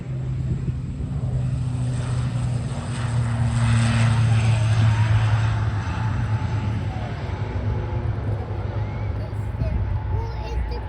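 An ATR-72-600 turboprop airliner taking off at an air show, a sustained propeller drone with a steady low hum that holds loud throughout, heard from a moderate distance.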